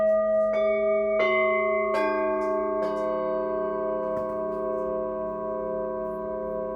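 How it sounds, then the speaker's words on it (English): A temple gong at a Five Wisdoms Temple sound-therapy session is struck four times in quick succession, each hit adding to a rich, shimmering ring that swells and sustains close and loud. "So this gong is going up."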